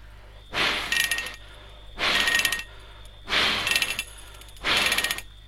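Air is blown across an aluminium buzzbait blade, compared against stainless steel, setting it spinning in four separate gusts. Each is a breathy whoosh with a fluttering metallic buzz, spaced about a second and a half apart over a faint steady whine.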